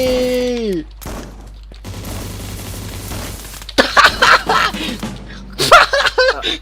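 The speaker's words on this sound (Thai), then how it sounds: "เฮ้ยมีคนยิงมา" Gunfire in the 2D battle royale game Surviv.io: a dense stretch of rapid shots, then loud scattered bursts, with a voice and laughter breaking in between the shots.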